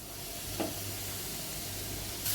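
Soft, steady sizzle of momo filling being sautéed in a pan for fried momos, quiet and continuous with a faint stir near the start, no voices.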